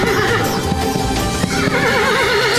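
A horse whinnies over clip-clopping hooves in a loud, dense promo sound effect for an Odia television serial, all mixed under music.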